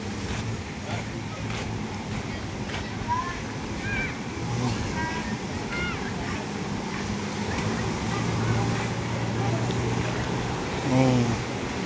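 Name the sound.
ocean waves on a beach, Pantai Sundak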